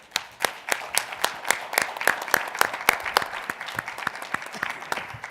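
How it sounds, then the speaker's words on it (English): Modest audience applause at an industry gathering, a smaller group clapping with distinct individual claps audible, steady through the clip and fairly close. "Just a big round of applause for two industry giants."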